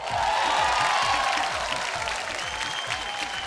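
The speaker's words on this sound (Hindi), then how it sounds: "जोरदार ताली" Loud, steady applause from a studio audience at a Bhojpuri music competition show, dense clapping filling the whole stretch with a faint tonal hum running underneath, no speech over it.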